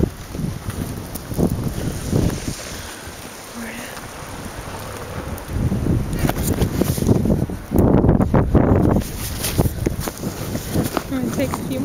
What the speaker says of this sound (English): the wind is starting to kick up and blowing in all directions